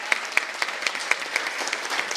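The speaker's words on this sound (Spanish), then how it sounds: "les voy a pedir un gran aplauso para mi compañera y amiga Juncal Solano" Applause for independent journalist Juncal Solano: steady, evenly spaced claps, about four per second, sounding like a small number of hands close by, with no voices over them.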